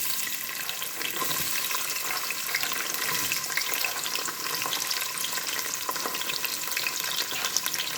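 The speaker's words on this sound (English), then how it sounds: "And I'm going to add the onions." Sliced onions for chicken kurma fry steadily in a hot pan, giving a dense, continuous sizzle with occasional stirring scrapes, loud and close throughout.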